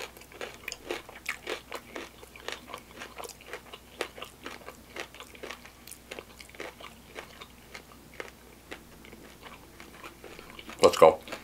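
Someone chews crispy squid sisig with garlic rice close to the mic: a run of sharp, irregular crunches and bites, with a louder burst of crunching near the end.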